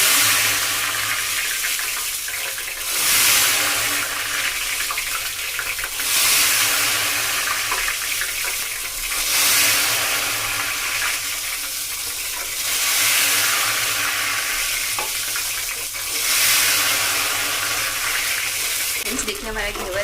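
Ghevar batter poured in batches into hot ghee over a high flame hisses and sizzles loudly, surging in repeated waves every few seconds as each pour hits the fat, with a person talking at times.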